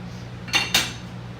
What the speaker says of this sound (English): So you take off the lid and you just stir around your pasta.